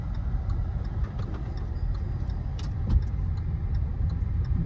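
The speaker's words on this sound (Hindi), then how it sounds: "गाड़ी भी आवे है" A car passes on a road, heard as a steady low engine rumble with road noise, fairly close and continuous, with faint ticking clicks on top and no speech.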